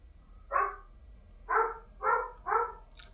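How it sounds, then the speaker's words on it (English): Dogs barking nearby, four short sharp barks with the last three in quick succession, followed by a faint higher yelp, against a quiet background. "Pardon the dogs."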